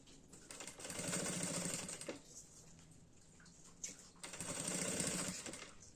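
Sewing machine set to its longest stitch sewing a fabric box-style cosmetic bag, two runs of rapid stitching separated by a brief quieter pause, close and clear with no talking.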